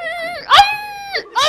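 A human voice imitates a dog with whimpering, yelping cries: a high wavering whine broken by sharp yips, heard up close and fairly loud.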